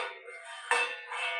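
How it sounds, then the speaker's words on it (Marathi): A metal lid clanks once onto a cooking pot holding dried bombil soaking in water, a short close clink over faint kitchen clatter. "बघा, झाकण ठेवल्यावर"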